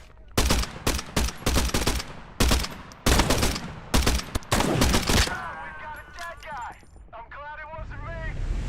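Rapid gunfire in the video game Pioner, including shotgun fire: repeated loud, close bursts of shots in clustered volleys over about five seconds, followed by quieter game sounds.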